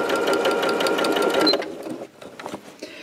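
A sewing machine runs a rapid, close, steady stitch along black fabric for a tote bag, then slows to a few scattered stitches and stops.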